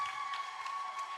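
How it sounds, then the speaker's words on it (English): Graduation audience applause heard faint and distant, a soft steady patter of many hands clapping with a thin constant tone running underneath. "Give them a big round of applause."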